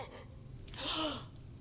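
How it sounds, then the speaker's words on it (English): A single sharp gasp, a short breathy intake rising to a peak and fading, heard close against a quiet background. "Wait, why are we gasping?"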